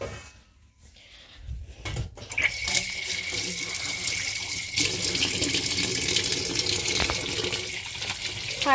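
Running water from a kitchen or bathroom tap as hands are washed, a steady close splash starting after a couple of seconds of quiet and continuing to the end, with faint background noise.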